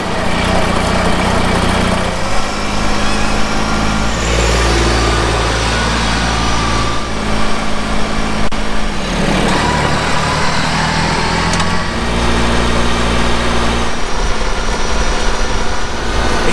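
A small red vehicle drives past on a German farm to fetch a load of cattle manure, its engine a steady, loud, buzzing drone that rises and falls in pitch across the whole stretch without any voices.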